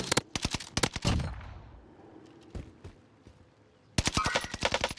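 Automatic gunfire in the Warzone video game, rapid rattling bursts up close, then a lull with a few scattered single shots, then another sustained burst.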